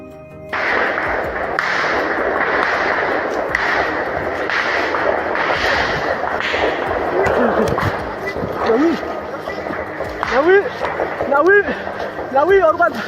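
Gunfire in a Papuan forest during an armed clash, several heavy, booming shots spaced roughly a second apart under a narrator's voice, followed by rumbling and louder outdoor noise.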